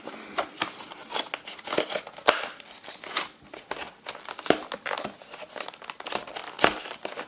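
A Pokémon Kyogre card deck package is torn and opened by hand, with steady close crinkling and crackling of plastic wrap in irregular bursts, fairly quiet and with no talking.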